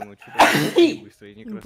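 A single short sneeze bursts out mid-conversation, loud and close, between stretches of people talking.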